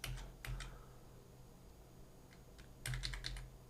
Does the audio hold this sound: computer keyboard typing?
yes